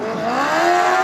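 Compact speedcar engine revving hard at a dirt speedway during an Australian title A-main race, a loud, continuous rising engine note held close for about a second with no talk over it.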